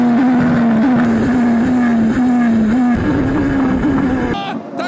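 A Super Formula race car under very hard braking, tyres smoking; a loud, close, steady high-pitched engine whine with small pitch wobbles that cuts off abruptly near the end.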